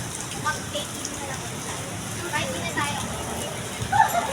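Heavy rain falls steadily during a storm in Pasay, a dense continuous hiss throughout with people talking over it.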